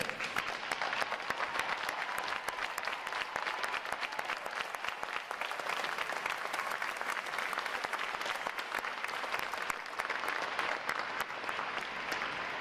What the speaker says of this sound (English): Will all our veterans please stand so we can give you a round of applause?